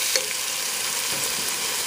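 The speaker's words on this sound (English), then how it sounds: "So our onions are translucent here. Go ahead and add our tomatoes." Tomatoes hit a pan of translucent frying onions, raising a loud, dense sizzle and crackle that continues close and steady, with faint stirring scrapes.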